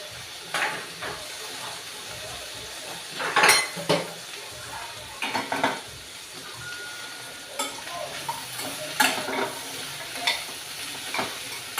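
Chopped beans tossed with browned onions in a frying pan, a soft sizzle under repeated scraping and clinking of a spoon against the pan in irregular bursts, close by, without talk.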